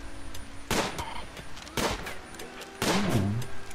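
Three sharp, loud gunshot blasts from the video game RimWorld, spaced about a second apart, each with a brief ringing tail, over a low steady background hum.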